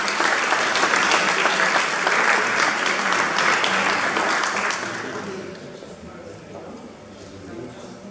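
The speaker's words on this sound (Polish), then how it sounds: "wielkie gratulacje i wielkie brawa dla Waltera Pyki." An audience at the Magnolia Powiatu Opolskiego award ceremony applauds in dense, sustained clapping that gradually thins out and fades into a softer murmur in the final seconds.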